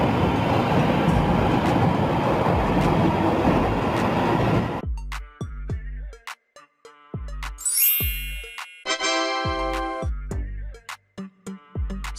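An underground subway train roars loudly for about five seconds, then the noise cuts off and a bright, plucky musical jingle follows alone.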